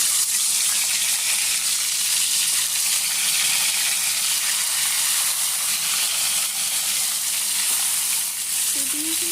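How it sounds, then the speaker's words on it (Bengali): Marinated eggs fry in hot oil in a pan on a low gas flame for an egg korma, a steady loud crackling sizzle with constant hiss throughout. "দিয়ে এবার ম্যারিনেট করা যে ডিমগুলো ছিল, ডিমগুলো আধা ঘন্টা হয়ে গেছে, তারপর আমি এগুলো ভেজে নিচ্ছি।"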